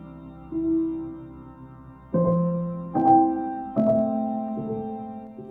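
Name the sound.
reverby piano music from a video game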